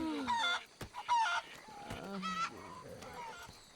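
Chickens in a Red Dead Redemption 2 roleplay server squawk and cluck in several close, loud bursts. Harsh, honking calls come in quick succession, then trail off into softer warbling, with no talk.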